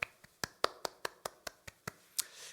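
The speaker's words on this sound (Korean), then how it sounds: "우리의 하나님 아버지께 영광의 박수 올려드리겠습니다" About a dozen crisp, evenly spaced claps ring out in a steady rhythm at an Easter Sunday church service, sounding faint and sparse, like only a few hands clapping, with no talk.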